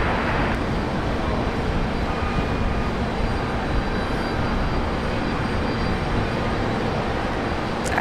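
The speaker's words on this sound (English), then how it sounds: "this is the only aircraft that's moving at on the airfield" Steady broadband roar of an aircraft moving on the airfield at Brisbane Airport, continuous and fairly loud throughout with no talk.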